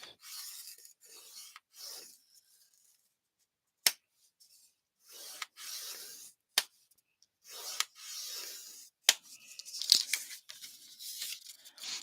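A paper greeting card is scored by hand with a tool, giving several short scraping strokes between pauses, with a few sharp taps and clicks, close and quiet.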